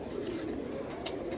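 A Satchila pigeon, one of a racing pigeon collection, coos in a low steady murmur close by, with faint background noise and no speech.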